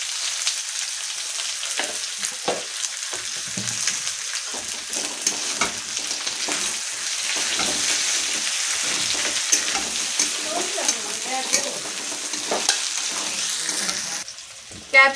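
Capsicum sizzles and fries steadily in hot oil in a pan for a mixed vegetable curry, a continuous close crackling hiss with occasional stirring scrapes, no talk, ending in a brief louder clatter.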